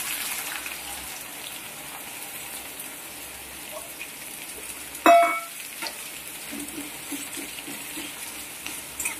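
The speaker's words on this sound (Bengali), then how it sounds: "এবার দিয়ে দিলাম 2টো মিডিয়াম পেঁয়াজ কুচনো এই তেলে।" Two medium chopped onions go into hot oil, giving a soft steady sizzle throughout and one sharp clatter partway through.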